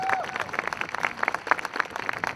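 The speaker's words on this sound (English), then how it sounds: "Let's give her a round of applause." Scattered applause from a rally crowd, a short burst of hand claps with some voices, fairly faint and uneven over about two seconds.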